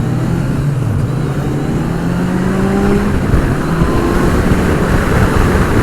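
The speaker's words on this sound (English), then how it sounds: "This engine is probably the smoothest engine I've ridden in my life" A Kawasaki Z900 motorcycle engine hums and revs smoothly in a steady, loud drone while riding, with pitch rising through the gears and constant wind noise, no talking.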